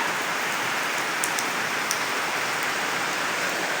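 Steady, dense rain falls continuously with an even hiss of drops hitting surfaces nearby, and an occasional louder drip stands out.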